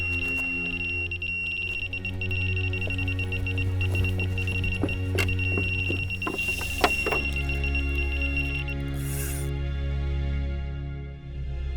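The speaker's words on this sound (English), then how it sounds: "At any moment that bobbin's going to smack against the blank and the alarm's going to roar" An electronic carp-fishing bite alarm sounds in a long steady tone with scattered sharper beeps and clicks over a low rumble, close and fairly loud before cutting off near the end.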